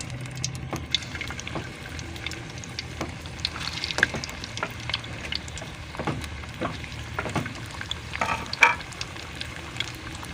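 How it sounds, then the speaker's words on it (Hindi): Chicken balls frying in hot oil, a busy crackling sizzle with frequent sharp pops and spits, steady and close throughout with no talking. "इस तरह दूसरे भी फ्राई कर लेंगे"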